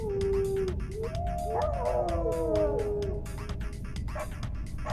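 A pack of beagles howls in the video game Tokyo Jungle, several overlapping rising and wavering howls over a steady game background, lasting a few seconds.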